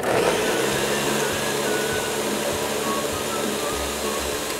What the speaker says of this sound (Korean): 이제 믹서기에 한 대 갈아보도록 하겠습니다.